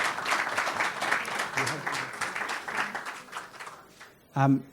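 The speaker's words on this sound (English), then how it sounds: "can we please give our excellent panel members a round of applause" An audience at a panel discussion on adopting a circular economy applauds the panel members, with a sustained round of clapping and crowd noise that tapers off, then a brief voice at the very end.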